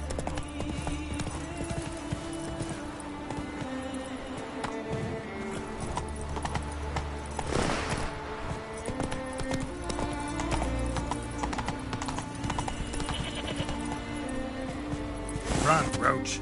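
In The Witcher 3, hooves drum in a fast galloping rhythm as the horse Roach runs, layered over game music and ambience, with a person talking over it at times and a louder burst near the end.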